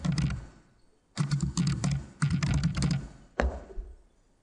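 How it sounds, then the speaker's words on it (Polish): Keys tapped on a computer keyboard while a room name is typed into an access-control program, several dense bursts of close clicking separated by brief pauses, with no talking. "Wpisujemy nazwę."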